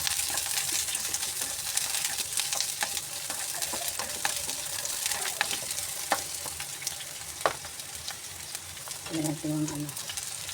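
Onion and garlic fry in a hot pan for a Filipino vegetable dish, a steady close crackling sizzle with occasional sharp pops and spoon scrapes, a brief lower tone near the end.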